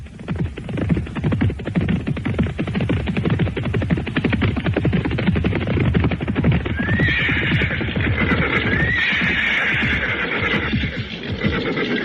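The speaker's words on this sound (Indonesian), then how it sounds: "mpok-perampok itu yang bernama Bajang Keling menyusul dengan membawa 2 ekor kuda yang mereka temukan, milik Kameswara dan Pinaka Swasti Ratu." Two horses in an Indonesian historical audio drama, neighing loudly over continuous clip-clopping hooves; the hoofbeats fill the whole stretch, with shrill whinnies rising near the end, no speech.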